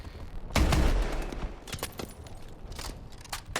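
A Bullfrog shotgun fired in Call of Duty: Advanced Warfare, one heavy close blast followed by scattered fainter shots and distant gunfire fading into the background.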